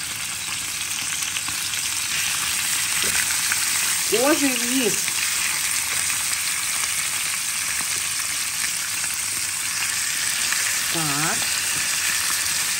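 Chicken sizzles and crackles steadily in hot oil in a pan, a loud continuous fry, while someone speaks briefly over it.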